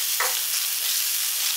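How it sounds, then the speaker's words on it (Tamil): A short stretch of spring onions and coconut frying in a pan, a continuous light sizzle with one quick stir scrape early on, close and unaccompanied by speech. "தேங்காயை ரொம்ப போட்டு வதக்க வேணாம்"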